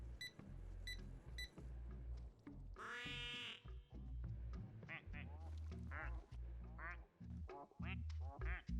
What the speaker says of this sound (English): That's his quack.